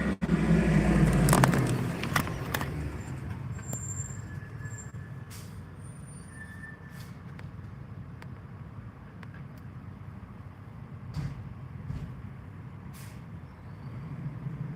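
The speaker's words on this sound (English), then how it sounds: "Fire truck's coming back." A fire truck arrives with a loud hiss of air brakes at the start, then idles with a steady engine rumble and scattered scrapes and clunks.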